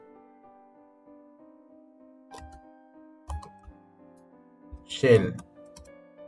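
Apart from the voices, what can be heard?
typing a Linux command on a computer keyboard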